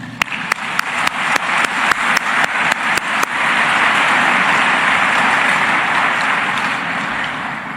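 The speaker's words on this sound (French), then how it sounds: "en une salve d'applaudissements" At a university medical faculty ceremony in Haiti, a few sharp, evenly spaced handclaps quickly swell into a dense wash of audience applause that holds steady and then slowly fades.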